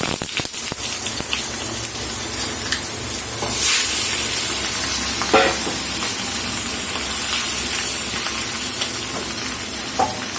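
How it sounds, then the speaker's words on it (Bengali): A narikeli fish fries on one side in hot oil in a pan over a low flame. A continuous close sizzle swells and eases, with a few light clicks from the pan or utensil. "মাছটা এখানে ভাজা হতে থাকে।"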